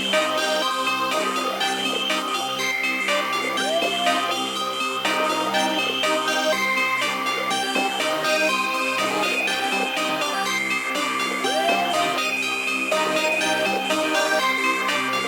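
A hard hip hop beat melody, built from layered MIDI elements, plays steadily and loud throughout with a dense, bright synth texture and a repeating riff, no drums or voices yet.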